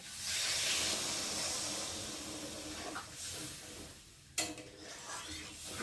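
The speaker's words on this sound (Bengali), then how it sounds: "এখন আমি জল দিয়ে ভালো করে ফুটিয়ে নেব" Water poured into hot masala for a shrimp curry makes a loud, steady hiss of steam that slowly fades, then a brief sharp burst of sizzle near the end, close up with no voices.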